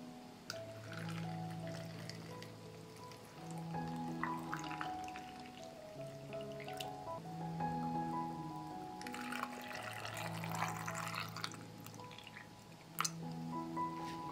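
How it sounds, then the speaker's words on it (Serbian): Water poured into a glass jar holding lemon juice, a soft trickle filling it with bubbly gurgles and drips, close and quiet, with no talking. "Teglu ću napuniti sa vodom."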